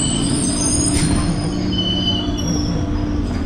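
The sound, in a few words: local train at Ichhapur railway station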